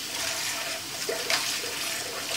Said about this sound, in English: put it on the running water and